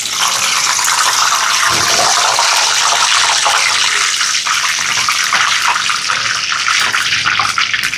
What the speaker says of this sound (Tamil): இதில் வந்து கொஞ்சமாக செத்தல் மிளகா பொரிச்சு எடுக்க போகிறேன்